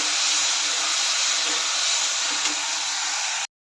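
Onion and tomato roasting in a pan give a steady, loud, even hiss that runs unbroken with no talk, then cuts off abruptly near the end.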